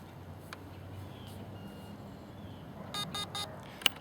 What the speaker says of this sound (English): we hold the trigger down until it beeps